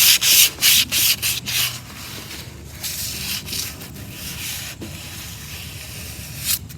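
Sandpaper rubbing over a chalk-painted wooden table to distress the finish, with loud close scratchy strokes, quick at first and then steadier.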